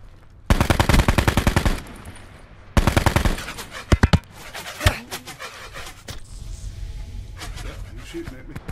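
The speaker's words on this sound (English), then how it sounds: "He's shooting at me." Rapid bursts of automatic gunfire in a multiplayer shooter video game, two long loud volleys followed by a few single shots and scattered fainter firing, with players talking over it.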